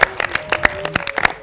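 An audience claps for a volunteer on stage at a live show, with scattered, uneven hand claps in a short close burst.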